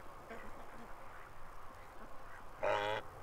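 A goose near the camera gives a single short, loud honking call, with a faint murmur of quieter calls beforehand.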